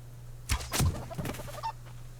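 A chicken in the survival game Subsistence gives a few short, quiet clucks spaced over about two seconds, with no one speaking.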